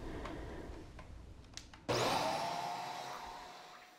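A vacuum cleaner working over low-pile car carpet to pick up pet hair: quiet at first, then the motor snaps on with a loud, close whine and airy roar that holds steady and slowly eases off, with no talking.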